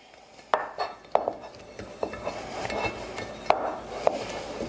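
Metal 8x8 baking pan being handled and greased with butter, giving a series of close, sharp metallic knocks and clatters with scraping in between.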